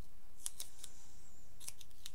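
Teflon scissors snipping paper or card, a few crisp, close, quiet cuts in two small bursts against a faint steady room hiss, with no talk.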